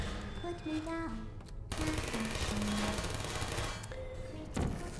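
Turret gunfire in Portal: rapid bursts of automatic fire crackle loudly and continuously, mixed with game music tones and effects, with no speech over it.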